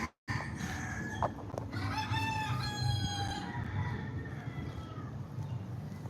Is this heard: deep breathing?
no